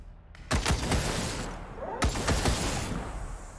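Gunshots in the video game Wasteland 3 ring out as two clusters of loud, sharp reports, each followed by a brief echoing tail, with no talking over them.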